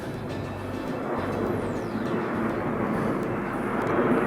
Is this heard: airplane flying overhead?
yes